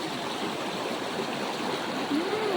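The Cayabu River flows in a steady, continuous rush of water, moderately loud and close, with no voices.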